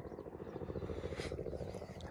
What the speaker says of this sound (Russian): Вертолеты что-то летают без остановки, уже десятый где-то пролетает.